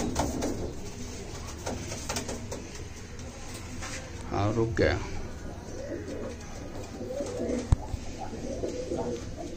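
Red-eyed Kasoori golden pigeons coo softly in short repeated bursts, mixed in beneath ongoing close conversation between people.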